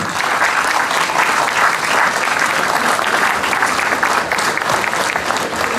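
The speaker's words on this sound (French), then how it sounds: "Mesdames et messieurs, un tonnerre d'applaudissements pour ces actrices de la gastronomie" Dense, sustained audience applause fills a hall at a gastronomy fair in Le Mée-sur-Seine, steady and loud throughout with a faint crowd murmur beneath the clapping.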